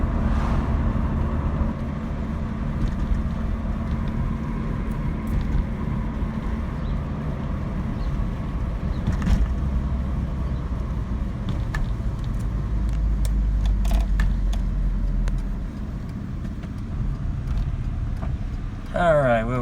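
Saab 900 Commemorative Edition engine idling smoothly, a steady low hum close by with passing road traffic around it, continuous for the whole stretch.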